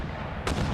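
Artillery fire in Empire Total War, a short, sharp burst of cannon fire that breaks in abruptly over a low rumbling battlefield background.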